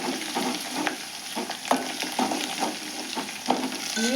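Fenugreek leaves fry in hot oil with a steady, close sizzle, broken by repeated spoon scrapes and clinks against the pan about every second.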